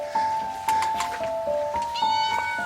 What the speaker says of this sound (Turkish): Kedicik de burada ne işin var senin?